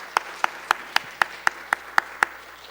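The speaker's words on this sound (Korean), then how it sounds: "우리 다시 한번 박수로 축복합니다." A church congregation claps in unison as a blessing, nine sharp, evenly spaced claps in a steady rhythm, loud and close with no talking.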